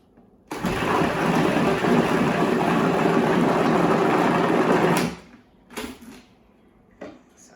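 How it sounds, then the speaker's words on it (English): An electric mixer runs loud and steady for about four and a half seconds whipping chocolate cheesecake batter, then stops, followed by a few short clatters of scraping the bowl. "Mix this for about 20 seconds and altogether or so, and scrape down the bowl"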